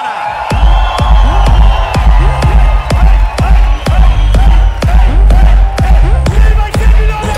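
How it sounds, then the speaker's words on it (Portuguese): A loud crowd cheers and claps in a lively hall to welcome a guest on stage, with a heavy booming beat thumping steadily at about one hit per second underneath. "Recebam com barulho e aplauso o rei do Fogo de Vinho, Murilo Coach."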